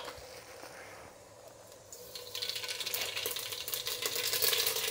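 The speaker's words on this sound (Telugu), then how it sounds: "ఇప్పుడు ఆవాలు వేసుకుందాము." Mustard seeds crackle in hot oil in a pan, starting quietly with a faint hiss and building partway through into a dense, bright spattering that grows louder toward the end.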